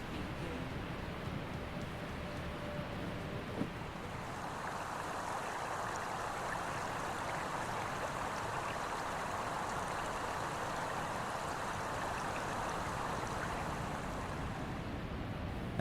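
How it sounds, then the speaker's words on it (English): Steady rushing roar of a very tall waterfall heard from a campsite right beside it, a continuous broadband wash with no breaks throughout. "we set up camp right next to the second highest waterfall in the world"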